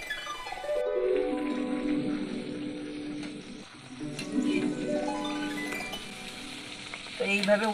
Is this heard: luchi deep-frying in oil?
yes